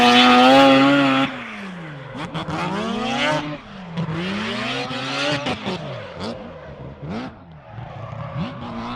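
A race car drives into the second corner of a track during a section test, engine revving up and down through gear changes with sweeping pitch climbs and drops, loud and close, with no talk over it.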